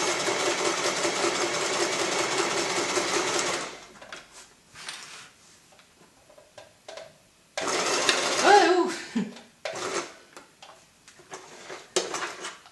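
A sewing machine stitching a last-minute Halloween costume sewn without a pattern, running in close bursts with pauses, handling clatter and quiet talk between runs.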